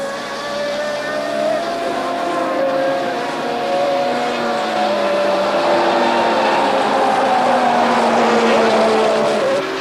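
Formula One cars racing at the 1982 Brazilian Grand Prix, a steady loud high-pitched engine scream with several overlapping pitches rising and falling as cars pass, with light commentary underneath.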